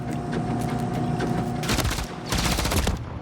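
Rapid automatic gunfire from Call of Duty MW3 ranked play, continuous bursts of loud close shots with a brief pause and another hard volley, heard without talk.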